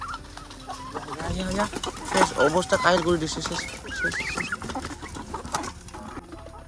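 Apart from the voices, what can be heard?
chickens and turkeys clucking while eating grain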